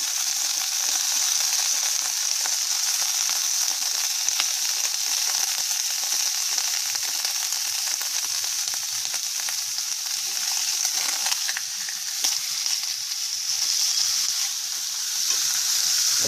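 A steak sizzles loudly in a very hot pan, a bright, continuous frying hiss that holds steady throughout with no voices.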